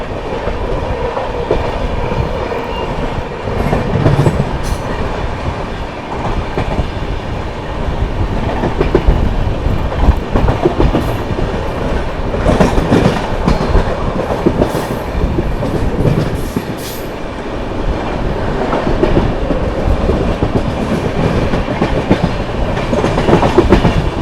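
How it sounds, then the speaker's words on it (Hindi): The 12826 Jharkhand Sampark Kranti Express runs through Etawah Junction without stopping, heard from on board as a loud, steady roar of rolling wheels with rhythmic clickety-clack over rail joints. "ट्रेन अपनी जो है दोस्तों इटावा जंक्शन स्किप करने जा रही है।"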